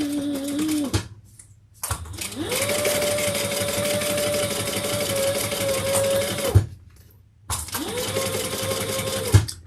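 Sewing machine stitching a bag seam, a loud close whirring motor run in bursts: a short run, pause, a long steady stretch, a stop, then another brief run.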